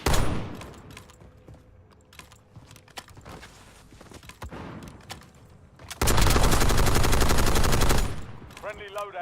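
Gunfire in the video game Warzone: scattered sharp single shots early on, then a dense sustained burst of automatic fire for about two seconds, loud and close, with a short crack at the end.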